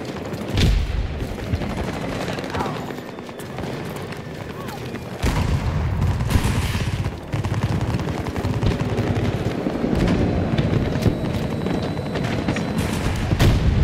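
Repeated gunfire and explosive booms in a video game, in quick bursts, loud and close, with sporadic heavier blasts and a constant rumbling background.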